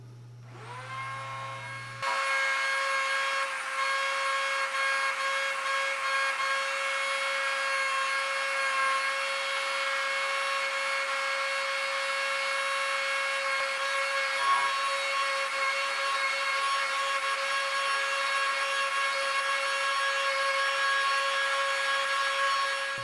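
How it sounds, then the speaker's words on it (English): A Dremel rotary tool spinning a felt wheel to smooth the edges of a Kydex knife sheath gives a steady, loud high-pitched whine after a brief motor spin-up, holding constant for the whole stretch with no talk. "Now I'll smooth the edges with a felt wheel on the Dremel."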